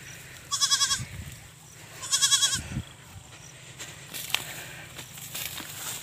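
Goats bleat on a farm in two loud bursts early on, followed by quieter rustling and faint background noise.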